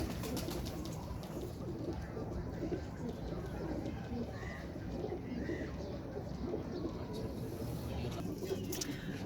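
Pet pigeons coo softly in a loft, with low murmuring calls scattered over a dense, noisy background and faint talk nearby.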